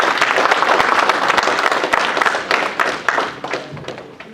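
A seated audience at a keynote address gives a round of applause, dense and close clapping with scattered sharp claps that gradually thins and tapers off.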